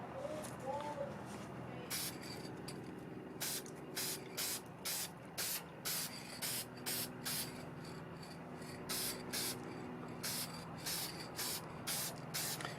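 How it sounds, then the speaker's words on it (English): Acrylic workable fixative sprayed from an aerosol can in a long series of short, sharp hissing bursts, fairly regular and close, separated by brief pauses. "This is probably a acrylic workable fixative."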